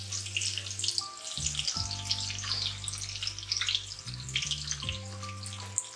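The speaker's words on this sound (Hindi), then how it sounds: "घी गर्म हो गया, अब हम इसमें प्याज शामिल करेंगे।" A medium onion drops into about a cup of hot ghee for masala kaleji and fries with a steady crackling hiss, set against a low tonal hum that shifts in steps.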